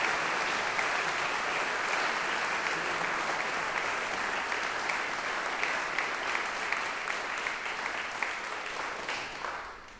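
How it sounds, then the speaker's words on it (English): Sustained applause from a lecture audience for Brian K. Blount at the Beecher Lecture, a dense, steady clatter of many hands clapping close by for the full ten seconds before tapering off at the end. "Can I hear a round of applause for Brian Jack?"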